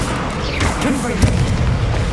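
A fiery Confringo spell blast in Hogwarts Legacy booms loud and close in a deep low rumble, overlapped by a speaking voice and game effects.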